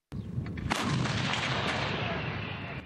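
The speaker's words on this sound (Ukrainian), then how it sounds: "Це гармати, які мають квіткову назву «Гіацинт», калібр 152 міліметри." A battery of 2S5 Hyacinth 152 mm self-propelled guns fires, a sharp opening blast followed by a heavier boom that rolls into a long, loud rumbling echo lasting several seconds.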